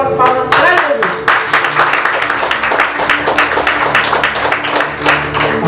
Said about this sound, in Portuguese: Recebemos o Senhor com as palmas para Jesus.